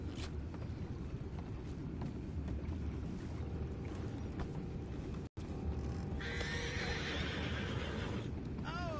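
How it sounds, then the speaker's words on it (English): A horse whinnies over steady low rumbling outdoor noise, with a rising, wavering neigh near the end after a brief dropout; faint wind and water-like background persist throughout, with no talking. "You mind the horses?"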